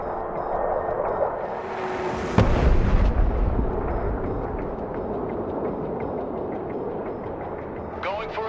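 A loud airstrike explosion in the Broken Arrow game hits suddenly with a deep boom and a rolling rumble. Background battle noise and a voice come under it, and distant secondary blasts follow.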